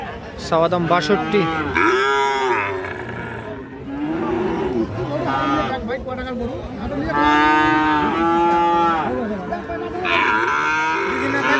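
Cattle moo loudly and repeatedly at a livestock market selling Friesian and cross-breed bull calves, long drawn-out calls overlapping one another with market chatter underneath.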